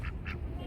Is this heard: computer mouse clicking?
no